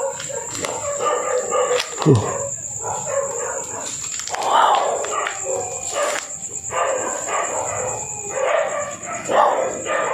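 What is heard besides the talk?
dogs howling at night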